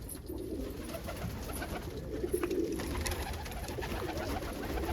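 Almond pigeons coo softly in a loft, low murmuring calls repeating close by over a steady background hum, with no talking.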